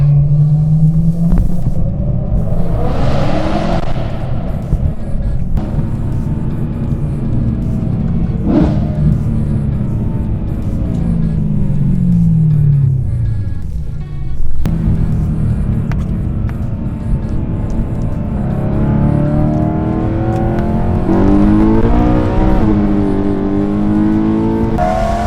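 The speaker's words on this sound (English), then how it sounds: "That is our E92 M3 that we just took a ride along with." BMW E92 M3 engine rumbling steadily as the car drives, with repeated rises in revs and a few sharp throttle blips, loud and close throughout with no talking.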